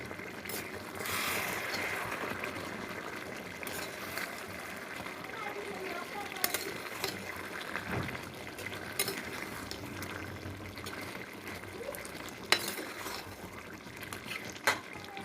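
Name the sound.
pumpkin simmering in a pot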